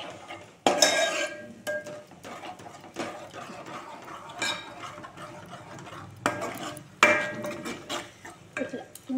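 Spoon stirring curd into paneer curry gravy in a pan, a series of close scraping and clinking strokes with soft sizzling between them, while someone talks quietly.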